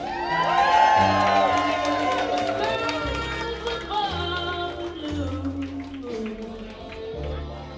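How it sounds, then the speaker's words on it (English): Wedding guests cheer for a bride and groom, a loud crowd of whoops and shouts swelling over music with a bright melodic line and steady bass, the cheering sustained throughout. "Cheer for your bride and groom."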